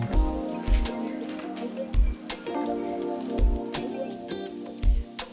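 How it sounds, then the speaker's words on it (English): Onions saute in a hot pan for cheeseburger sliders, a soft, continuous crackling sizzle with irregular pops and low thumps throughout, fairly faint and with no talking. "Okay, so these onions are sauteing."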